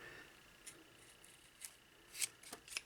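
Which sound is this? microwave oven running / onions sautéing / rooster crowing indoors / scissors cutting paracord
scissors cutting paracord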